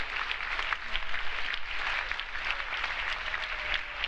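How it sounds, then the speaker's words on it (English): Audience applause at a gathering, steady dense clapping from many hands, moderately distant and even throughout. "put your hand together."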